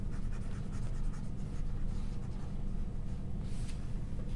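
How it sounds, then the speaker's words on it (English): Steady rubbing of an eraser wiping marks off a board, a continuous close scuffing hiss with no pauses or voices. "So I'll do a quick erase here of these guys."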